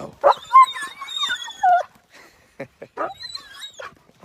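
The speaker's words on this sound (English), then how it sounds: "Here come my dogs." Dogs arriving at a farm whimper, yip and bark close by in several short bursts, with a voice briefly talking between them.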